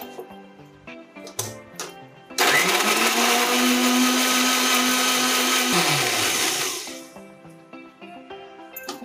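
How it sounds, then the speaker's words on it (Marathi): An electric mixer grinder whirs loudly for about four seconds, grinding tomatoes into a smooth paste, starting abruptly, holding a steady high roar, then winding down, with quieter kitchen clatter before and after. "तर आता आपण टमाट्याची पेस्ट करून घेऊ।"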